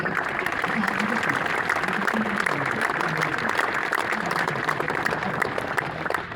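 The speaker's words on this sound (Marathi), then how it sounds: "आता चालू करायचं, जोरात टाळ्या शशिकांतसाठी" Loud, sustained clapping from a room full of people at a workshop, applauding a participant named Shashikant with a dense, steady roar that continues throughout.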